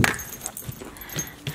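Puppies whimper softly and make small greeting noises in short, faint bursts close by, with some shuffling and jangling around them.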